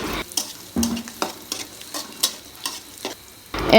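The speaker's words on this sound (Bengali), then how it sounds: "তারপর আদাটা একটু ভেজে নিলাম" Chopped ginger fries in oil in a wok with a close sizzle, broken by repeated sharp spatula taps and scrapes about twice a second. No voices are present.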